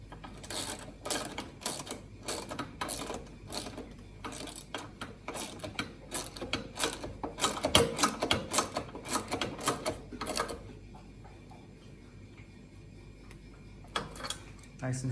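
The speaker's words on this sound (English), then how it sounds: "That's a 13mm wrench or a socket with ratchet." A 13mm socket ratchet tightens the upper crash bar bolts on a BMW R1250GSA motorcycle, a run of rapid close mechanical clicks in quick bursts that thin out toward the end, with a voice talking at times.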